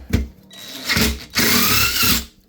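Power drill driving a screw to fit a workbench caster onto a pottery wheel, two close whirring bursts that rise and strain as the screw bites, with a short pause between them and no talk.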